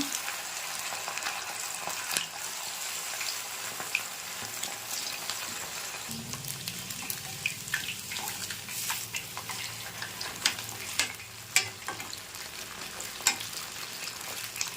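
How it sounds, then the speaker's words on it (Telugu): Chicken pakodi pieces fry in hot, well-heated oil, a continuous bubbling sizzle with scattered crackles and pops, close and with no one talking. "ఇప్పుడు చికెన్ పకోడీ అయితే వేసుకుందాం అండి నూనె అయితే బాగా మరిగింది ఇందులో ఒక్కొక్కటిగా వేసుకుందాం"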